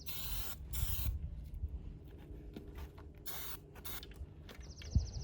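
Striping paint sprayed in short push-and-release bursts onto a curb from a can held several inches away: several sharp hissing blasts separated by quiet gaps, close and clear, with faint handling noise between.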